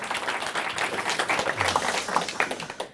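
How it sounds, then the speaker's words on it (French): Scattered clapping from an audience at a French political talk, moderately loud and uneven, with a few individual claps standing out over a brief murmur. "On l'applaudit."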